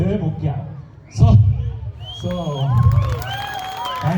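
Audience at a movie promotion event breaks into loud applause and cheering after a short pause, a dense crowd roar that carries on beneath a man's amplified speech.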